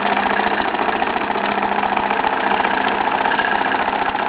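A Bowman M122 model steam engine runs steadily with its drip feed oilers primed with 20W50 engine oil, giving a continuous, even mechanical chuffing hum close by, with no talking.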